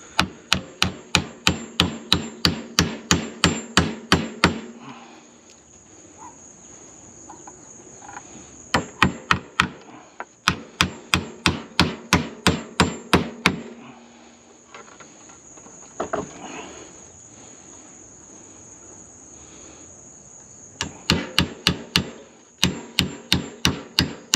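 Screws being hammered into a wooden chicken and bird feeder: close, loud bursts of quick, evenly spaced blows, broken by short pauses and repeated several times.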